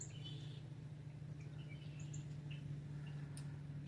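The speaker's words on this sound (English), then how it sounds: "Just a lot of birds." Small birds chirp and tweet in scattered short calls around feeders in a state park, faint and somewhat distant over a steady low hum.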